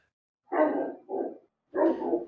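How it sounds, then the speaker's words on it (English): Upset dog giving three close, sharp barks in quick succession, the last one longer and rougher, in an otherwise quiet room. "Upset doggy."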